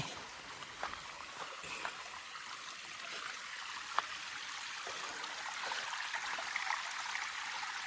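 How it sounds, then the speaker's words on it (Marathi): A small spring trickles steadily at low volume in hills near a Konkan village, with a few faint clicks and drips over a soft outdoor hush. "पाण्याचा झरा आहे"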